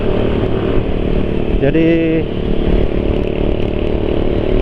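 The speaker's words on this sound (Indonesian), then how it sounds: "getaran mesin, raungan suara knalpot bikin feelingnya tenaga itu makin besar" Motorcycle engine revving after its pro capacitor was removed, a loud, steady engine drone with exhaust roar and a brief rising rev in the middle, close up, with someone speaking briefly over it.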